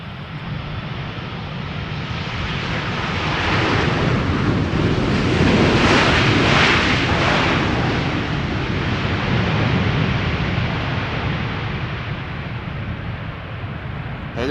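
A Boeing 787 Dreamliner jet at Schiphol Airport roars past in a broad, sustained rush that swells to a peak midway and then slowly fades, loud and steady throughout with no voices.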